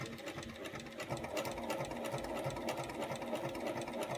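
A sewing machine runs steadily, stitching around a piece of foam, its even rapid needle chatter continuing throughout at moderate volume with no voices.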